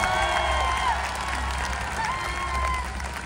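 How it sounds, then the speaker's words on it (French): An outdoor crowd at an equestrian show during a town festival applauds the riders and their horses. The applause is a dense, steady wash with scattered cheers and whoops rising above it, heard from within the audience. "je vous demanderai un tonnerre d'applaudissements pour nos cavaliers et leurs montures, s'il vous plaît"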